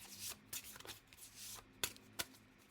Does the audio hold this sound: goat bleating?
no